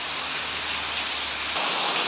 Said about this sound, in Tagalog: masyado malakas po yung ulan